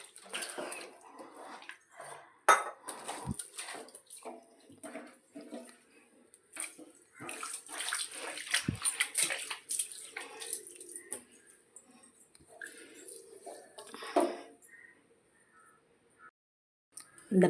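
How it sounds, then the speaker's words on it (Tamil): Water poured and splashed across a kitchen counter top during cleaning comes in irregular bursts of splashing and dripping over about seventeen seconds, fairly close, with scattered knocks and gaps of near silence. "தண்ணி ஊற்றி விட்டுருவோம்."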